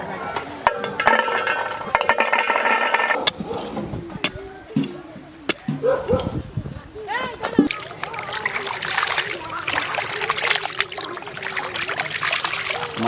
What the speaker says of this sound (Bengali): মাংসটা আমরা সুন্দর করে ধুয়ে নিয়েছি।